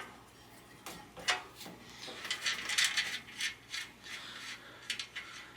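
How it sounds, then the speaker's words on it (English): A wrench works the axle nuts on a Raleigh 3-speed bicycle front wheel, giving quiet intermittent metallic clicks, scrapes and ratcheting bursts up close, with no talking. "I've got a 14mm wrench here which seems to fit these axle nuts here, so I'll loosen the axle nuts on both sides"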